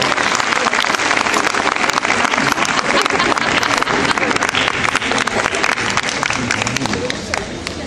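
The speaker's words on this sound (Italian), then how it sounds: "Un grande applauso, Francesca, puoi prenderci un poco." A crowd applauds loudly and continuously at a regional sports award ceremony as a second-place winner comes forward, the clapping thinning slightly toward the end, with some voices mixed in.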